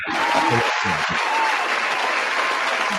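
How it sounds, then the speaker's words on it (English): A studio audience on a talk show gives a guest a round of applause, close, dense clapping that starts right away and holds steady, with brief voices at the start. "Give it a little applause."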